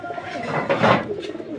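Giribaz pigeons cooing, a short soft coo rising and fading over a faint murmur of background noise, no clear talk.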